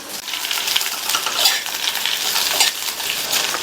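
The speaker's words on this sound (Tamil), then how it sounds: "இதுல வெண்டைக்காயை சேர்த்துட்டு மீடியம் ஃப்ளேம்ல வச்சு 4 இருந்து 5 நிமிஷத்துக்கு இந்த வெண்டைக்காயை ஃப்ரை பண்ணிட்டு இருக்கலாம்" Okra fries in oil in a pan over a medium flame, a close crackling sizzle with uneven bursts and faint clinks of stirring against the pan.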